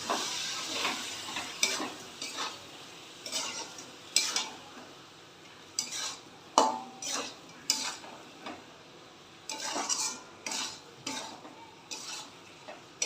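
Spice masala for a jackfruit and chicken curry sautés in a pan with a little water: a soft sizzle under regular scraping strokes of a spoon and metallic clinks against the pot, with no voices.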